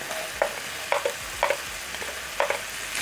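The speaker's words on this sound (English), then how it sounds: "Then I'm going to saute until the onions are soft." Onions sauté in a pan for pork stew, with a continuous sizzle and four or five rhythmic scraping stirs of a utensil close by and no talking.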